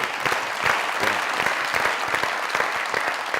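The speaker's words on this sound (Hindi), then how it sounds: "हाँ तालियां उनके लिए" Audience applause during a chat-show interview honoring a film figure, a dense, steady wash of many hands clapping at moderate level with no talk on top.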